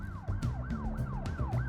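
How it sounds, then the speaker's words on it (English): A fire truck siren wails in a rapid, repeating yelp, its pitch sweeping up and down about every half second, loud and close with no talking over it. "They all climb aboard the fire truck and turn on the siren and lights."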